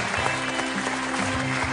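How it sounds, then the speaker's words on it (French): A studio audience claps, a short, even burst of many hands applauding at moderate loudness with a low steady tone running underneath. "On les applaudit très fort."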